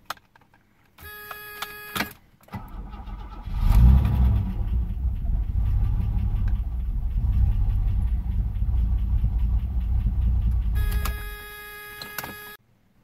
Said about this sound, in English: This is a starting attempt with broken auxiliary air valve at a temperature of 26 degrees centigrade